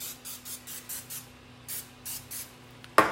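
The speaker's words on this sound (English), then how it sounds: "I probably will do that with my coconut spray" Coconut oil cooking spray goes off in a series of short, even hissing puffs, close and fairly quiet, ending with a sharper clack.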